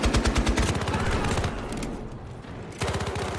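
Battlefield gunfire: sustained rapid automatic bursts, loud and close, with a brief slackening in the middle before another burst.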